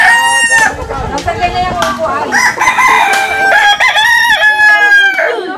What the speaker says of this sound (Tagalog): Sama naman tingin ni Tantan sa manok eh